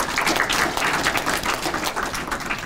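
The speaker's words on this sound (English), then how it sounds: "So just give yourselves a round of applause for all the hard work you did." Applause for student mock trial competitors at a municipal court awards ceremony, a brief, dense clatter of many hands clapping at close range.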